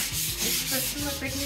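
A faux marble finish for a kitchen or bar counter is wet-sanded with 1000-grit sandpaper and water, giving a steady, close rubbing and scraping with a back-and-forth rhythm and no voices.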